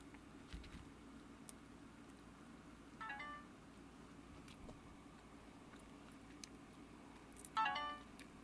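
Two brief electronic phone notification chimes sound several seconds apart, each a short bright burst of a few rapid tones, against a low room hum with faint clicks.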